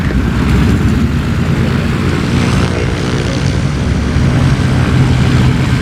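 A light propeller aircraft rolls for takeoff at Oshkosh EAA AirVenture, its engine a loud, steady droning roar that holds close throughout without talk.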